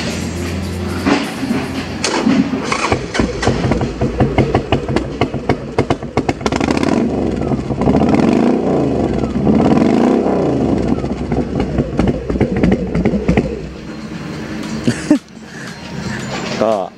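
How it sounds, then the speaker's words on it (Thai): A Harley-Davidson Sportster 1200 with an old-school 2-2 full exhaust system chugs and rumbles nearby, its engine loping unevenly and rising in short revs, with a thump near the end and someone talking over it. "Sportster 1200นะฮะฟังเสียงกัน"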